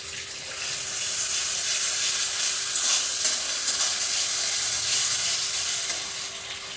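Grated coconut fries in a pan for prawn malai curry, giving a steady, fairly loud hiss of hot oil with faint crackles that holds evenly throughout, with no voices.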